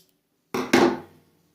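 Scissors snip through crochet yarn twice in quick succession, each cut a short, close, crisp crunch with a brief fading tail in a quiet room.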